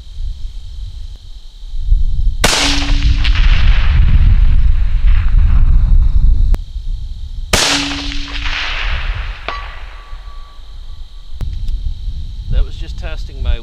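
Two loud 6.5 Creedmoor rifle shots firing Hornady Precision Hunter ammunition, each a sharp crack followed by a long rolling echo, about five seconds apart, outdoors with a faint whine and brief rustling afterward.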